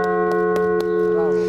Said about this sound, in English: The Holy Father rang the bell with two children from Poland, where the first bell was cast.